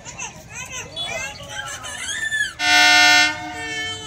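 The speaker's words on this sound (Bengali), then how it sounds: "ট্রেন হর্ন দিচ্ছে" A train sounds its horn at Plassey railway station: one loud, steady blast lasting under a second, preceded by voices and children's chatter on the platform.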